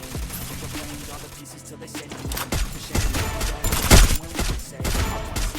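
Gunfire in the Free Fire battle royale video game crackles in rapid irregular bursts of sharp shots, loud and close, with a few heavier impacts amid the exchange.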